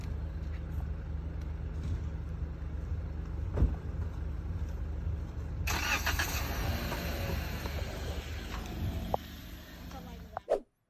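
A parked car's engine cranks and starts partway through, its idle settling steady before a few sharp knocks and clunks near the end, heard nearby over a constant low background hum.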